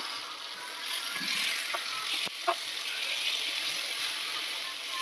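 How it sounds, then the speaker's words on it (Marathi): Garlic-stuffed potatoes frying in a pan, a steady soft sizzle broken by a few clinks and scrapes as pieces are turned, close by with no voices. "इथे आता मी बटाटा शिजत ठेवलेला. आता परतून घ्यायचंय."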